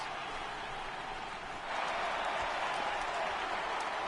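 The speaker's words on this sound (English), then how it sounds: "Well, this crowd happy about the 7th inning stretch." Crowd noise fills a stadium during the seventh inning stretch in the MLB The Show 18 baseball video game, a steady wash of cheering and applause that swells slightly partway through.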